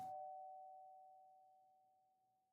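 A single doorbell chime in the Z.A.T.O. visual novel game: one clear electronic tone struck once, ringing on and slowly fading over a couple of seconds, alone and fairly quiet.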